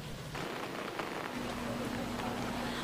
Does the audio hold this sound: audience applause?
no